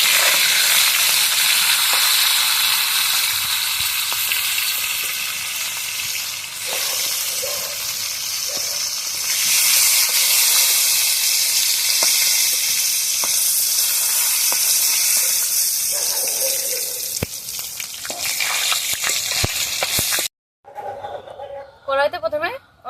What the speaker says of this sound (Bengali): পটলগুলো ভালো করে ভেজে নিয়েছি